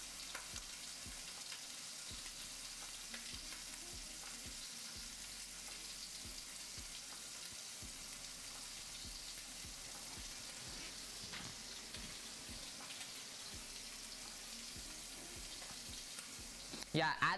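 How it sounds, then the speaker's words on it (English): Onions sautéing in a pan after pork is removed, for a pork ragu: a steady, soft sizzle runs throughout with faint stirring clicks, louder clatter at the very end. "Start sauteing our onions,"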